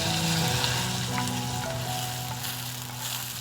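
Dried red chillies, curry leaves and mustard seeds sizzle in hot oil for a kichadi tempering, a continuous close crackle and hiss with a few faint pops, steady throughout with no voices.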